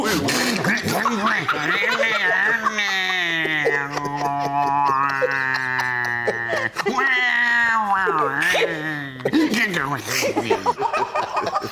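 In a comedy sketch, a human voice mimics cats fighting, with drawn-out yowling wails that rise and fall, broken by short sharp hisses and squeals.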